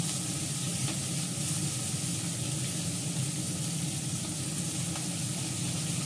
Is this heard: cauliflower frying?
yes